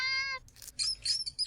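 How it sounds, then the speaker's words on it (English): A cat's yowling and shrieking cries, harmonic and wavering, with a drawn-out wail followed by harsher, broken snarling calls, fairly close and alone without talk. "Low yowls, deep snarls"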